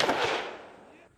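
A single sharp blast of mortar or rifle fire at an outdoor combat marksmanship range, with a broadband crack that decays into a fading rolling echo over about a second, heard alone with no talk.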